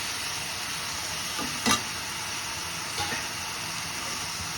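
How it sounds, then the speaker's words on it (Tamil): Brinjal frying in a pan with softened sautéed tomatoes gives a steady broadband sizzle throughout, with a couple of louder stirring scrapes near the middle. "இப்போ தக்காளி வதங்கி தக்காளி வதங்கிட்டு கத்திரிக்காய் போடுறேன்."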